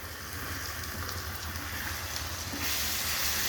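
Grated potato sizzles in a hot pan, a steady, quiet crackling hiss that swells slightly near the end.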